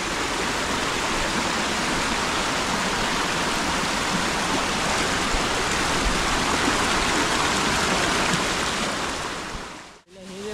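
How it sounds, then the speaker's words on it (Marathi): Water rushing and falling down like a small waterfall near a Ganpati temple in the Konkan countryside, a loud, steady broadband roar that runs without a break for about ten seconds before cutting off abruptly. "त्यामुळे धबधबासारखं झालेलं तिथे."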